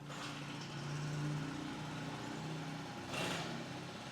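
Small Honda GX35 four-stroke engine running at a steady, fairly quiet idle, a low continuous hum with a soft brief swell near the end.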